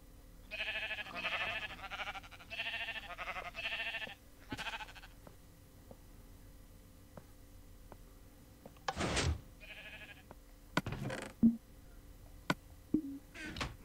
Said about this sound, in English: There's a pink sheep.